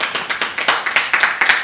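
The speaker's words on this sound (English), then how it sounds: "Can we have a round of applause for Komani Kambas?" A council audience at a student general council claps in short, even bursts, roughly a dozen sharp hand claps from a small group, close and fairly loud.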